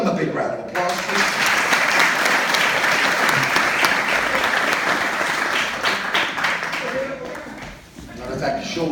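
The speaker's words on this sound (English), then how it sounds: "Give them a big round of applause, please." A crowd applauds volunteers at a comedy hypnotist show at a university, loud sustained clapping that swells, dips briefly near the end, then rises again.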